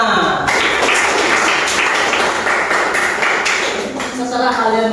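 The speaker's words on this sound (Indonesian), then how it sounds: "Tepuk tangan." A classroom of students claps in a sustained burst of applause, loud and close, with mixed voices and shouting over it before it tapers off near the end.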